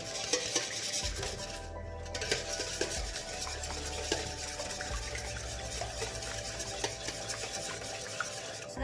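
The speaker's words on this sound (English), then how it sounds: "you have to take your whisk and whisk them together until the eggs are fully" Wire whisk beating eggs in a big bowl, a steady run of quick scraping clicks and taps against the bowl, continuous and close, with no voices.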